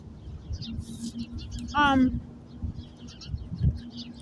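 Birds outdoors give sharp, agitated chirps just after an attack, including one loud harmonic call in the middle, among scattered fainter tweets and background noise.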